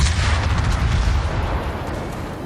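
Ship guns firing in a naval battle game, a heavy rumbling boom that rolls on into a long, broad roar, loud and fading slowly, with no talking.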